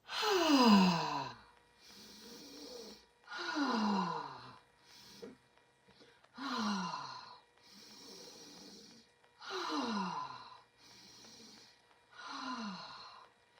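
During a qigong breathing exercise, a person close by takes slow, deep breaths, about five audible inhale and exhale cycles in an even rhythm, with quiet gaps between them.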